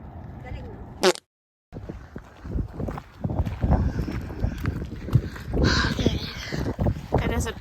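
Crow caws outdoors on a mountain walk, rising over wind noise and footsteps while people talk nearby, partly covered by the voices.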